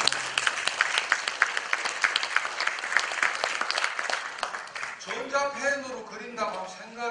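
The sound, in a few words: audience applause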